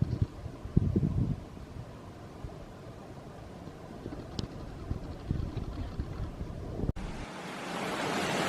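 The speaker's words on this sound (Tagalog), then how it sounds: "Ooh, lakas ng hangin." Strong gusting wind roars outdoors ahead of an approaching tornado, a continuous rushing buffet with microphone rumble that builds louder toward the end.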